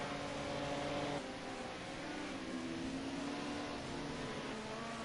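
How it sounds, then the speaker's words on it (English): A Ford Sierra Cosworth race car runs on a circuit at Oschersleben, a steady engine drone with a shifting pitch as it passes at moderate distance, fairly faint. "you can see Les is now starting to struggle with the back end of the Sierra Cosworth"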